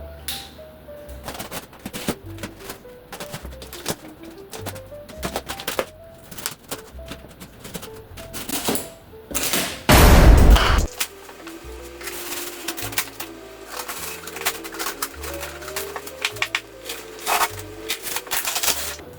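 Cutting material by hand for a homemade silhouette target, a series of close, irregular snipping and scraping sounds with short pauses and one louder burst partway through; no one speaks.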